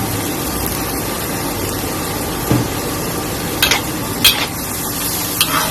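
Mixed vegetables and pork stir-fry in a hot pan with oyster sauce and a pinch of sugar, giving a loud, continuous sizzle broken by a few sharp scrapes and clinks of the spatula.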